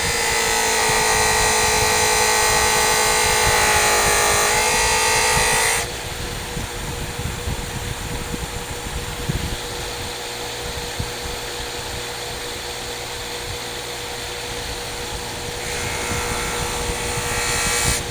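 A loose buffing wheel runs steadily during knife sharpening, a loud whirring motor hum that drops in pitch and level as pressure is applied, then rises again near the end.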